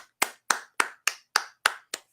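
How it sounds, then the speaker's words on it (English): A single pair of hands gives seven slow, evenly spaced claps, close and dry, with silence between each one and no voices. "Round of applause for the Bills."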